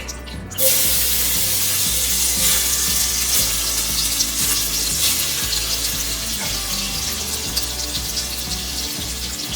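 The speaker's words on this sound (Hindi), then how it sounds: "ऑयल अच्छे से गर्म हो चुका है। अब हम इसमें चावल ऐड करते हैं" Rice tipped into hot oil flavoured with a cardamom pod, for sweet rice, sets off a loud, steady sizzle and crackle that starts abruptly and continues throughout.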